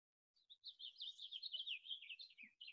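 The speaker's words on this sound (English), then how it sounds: "You might hear the birds in my yard. They're super loud today." Birds singing in a backyard: a continuous, bright run of chirps and twittering warbles, moderately faint and somewhat distant, with no voices.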